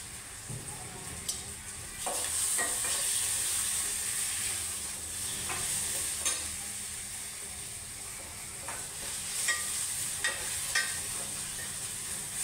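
Vegetables for daal baati sauté in a pan over low gas, giving a steady soft sizzle with occasional scraping and stirring clicks and a high hiss throughout, with no voices.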